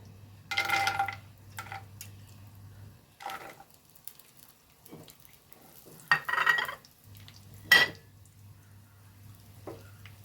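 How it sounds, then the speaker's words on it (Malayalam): Cashews and raisins dropped into hot ghee in a pan, giving a few bursts of sizzling and frying crackle with stirring scrapes in between, close and moderately loud against a steady low hum. "ഞാൻ ഇതിലേക്ക് കുറച്ച് അണ്ടിപ്പരിപ്പും കുറച്ച് മുന്തിരി എടുത്ത് വെച്ചിരുന്നു അതൊന്ന് ഇതിലേക്ക് ഇട്ട് കൊടുക്കാം"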